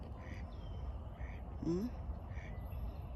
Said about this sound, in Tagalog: Naglalango yan na yung mga duck